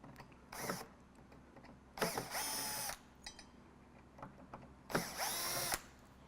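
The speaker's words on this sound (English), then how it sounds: "Just remove the screws on the flake board, the protective piece." A power drill backs screws out of a flake board protective piece on an Evoque frame display base unit, three separate loud whirring bursts, the second and third longer, with quiet handling between.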